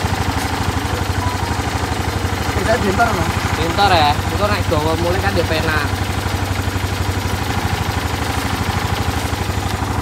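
A diesel engine runs steadily throughout with a constant low rumble, while people talk loudly over it close by.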